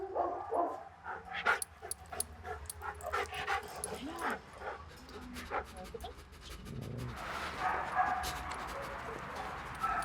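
A Beauceron cross dog whimpers and gives short yips and barks nearby, with panting between them, over a busy background.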